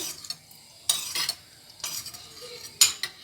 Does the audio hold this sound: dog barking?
no